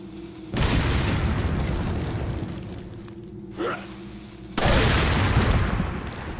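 Dynamite explosions in Resident Evil 4 HD, two loud booming blasts with a rumbling tail a few seconds apart, a short sharp pop between them, all fairly close and without speech.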